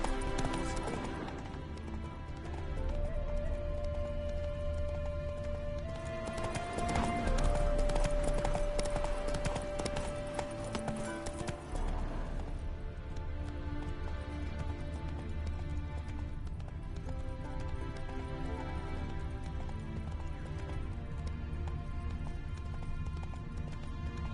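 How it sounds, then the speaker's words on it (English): Horse hooves in the Witcher 3 video game, a steady run of clip-clopping footfalls continuing throughout under music and ambient game sound, moderately loud with no voices on top. "It's a horse."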